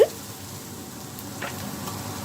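Curry leaves and onions soften in a pan for a Sri Lankan dried fish curry, giving a faint, steady low sizzle with no clear pops.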